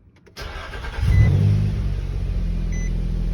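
The engine of a 2008 Nissan Frontier cranks briefly and catches, then settles into a steady close idle, with a soft beep shortly after starting.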